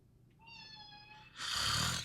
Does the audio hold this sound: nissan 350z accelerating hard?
no